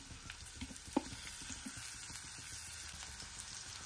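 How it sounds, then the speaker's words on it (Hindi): Sliced onions fry quietly in hot oil, a faint, steady sizzle with a soft clink or two near the start and no talking. "तेल को हमें अच्छी तरह से गर्म होने देना है इसके बाद हम डाल देंगे प्याज"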